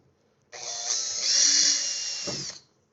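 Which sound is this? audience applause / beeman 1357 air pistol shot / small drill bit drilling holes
small drill bit drilling holes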